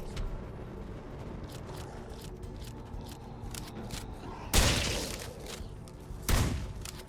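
Two sharp gunshots in the Night of the Dead video game ring out a couple of seconds apart, loud against a steady background of game ambience.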